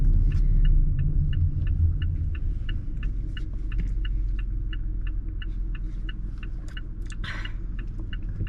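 A car engine gives a steady low rumble and throbbing hum as the car slows down on its own, with a faint regular ticking, like a turn signal, above it throughout.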